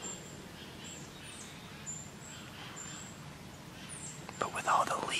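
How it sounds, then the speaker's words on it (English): Birds chirp in a quiet autumn woods during a firearms deer season opener, several thin calls scattered through the clip over low background murmur, with a brief louder rustle near the end. "I hope you can hear me over these birds."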